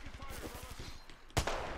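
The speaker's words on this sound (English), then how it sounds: "Oh, I shot him right in the head!" Gunfire in the video game Apex Legends, fired as a rapid burst of shots followed by a single louder blast, under excited talk.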